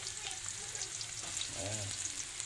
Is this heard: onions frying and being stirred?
yes